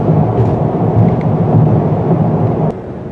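Steady low road rumble fills the cabin of a 2017 Toyota Avalon on the freeway, a dense, continuous roar heard from inside. It eases slightly near the end, with no talking.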